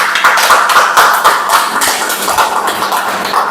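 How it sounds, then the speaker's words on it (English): Applause from a Toastmasters club audience after a speech evaluation, a steady patter of hand claps that fills the whole stretch at an even, moderately loud level with no talk over it. "Let's give him a round of applause."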